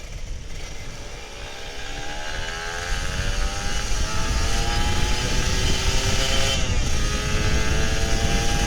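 A two-stroke Kawasaki Ninja RR 150 rides through Jakarta's Sudirman area, its buzzing engine climbing in pitch as it accelerates and shifts, steady and close, with road noise beneath and no talk.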